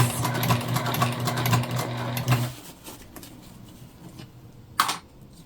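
A sewing machine runs close by, top stitching a self-drafted tote bag in a steady mechanical hum for a couple of seconds, then stops, leaving quiet handling noises and a brief knock.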